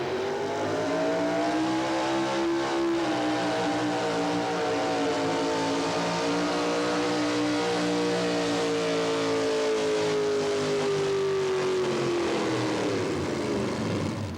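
The pulling truck Whiplash from Harrisburg, Kentucky, driven by Jim McGlone, roars at a truck pull, a sustained loud engine howl that climbs in pitch and then sags as it loses power near the end of the run.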